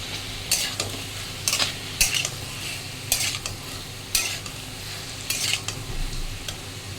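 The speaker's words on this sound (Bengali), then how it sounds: "সবজিগুলো আমার ভালো করে ভাজা হয়ে গেছে।" Vegetables sizzle in a pan under a steady crackle while a utensil stirs and scrapes them in repeated bursts, about six or seven strokes across the stretch, close and clear with no voices.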